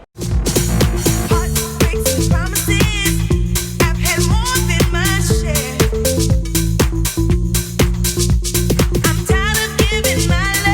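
A disco track plays loudly with a driving four-on-the-floor beat and a bouncing, prominent bass line throughout.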